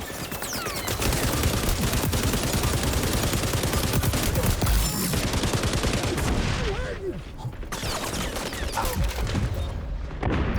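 A light machine gun in XDefiant fires sustained, loud automatic bursts, close and rapid, nearly continuous for several seconds with occasional booms and faint talk underneath.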